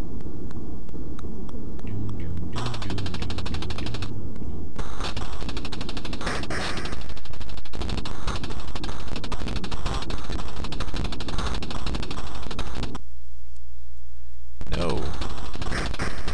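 Rapid chiptune gunfire rattles continuously at the player in the C64 video game The Movie Monster Game, loud and harsh, with brief gaps between bursts.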